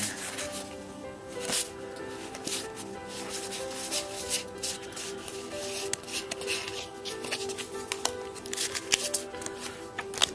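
Stiff Gears of War board game mission cards being shuffled and handled, a steady run of soft papery rubs and flicks with a few sharper snaps, close and fairly quiet.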